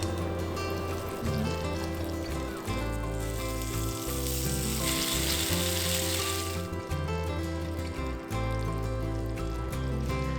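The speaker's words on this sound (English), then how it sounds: "I'm going to fry them for another 2 minutes and we're done" Goat cheese dumplings frying in Irish butter give off a steady, close sizzle and crackle that runs unbroken throughout, with no talking.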